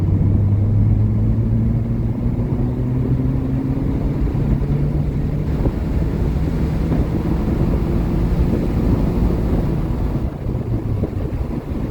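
An 8th-generation Honda Civic with a dual chamber muffler drives in third gear with a deep, droning exhaust rumble, engine pitch slowly climbing and settling, mixed with steady wind and road noise.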